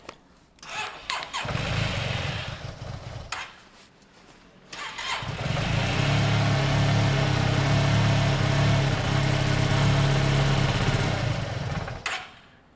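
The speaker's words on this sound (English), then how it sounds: "We'll just see if it fires up off its own accord and we'll idle a bit." A carbureted Yamaha TMAX scooter engine cranks in short bursts, catches, cuts out, then starts again and settles into a loud, steady, slightly uneven idle close by, with no talk over it.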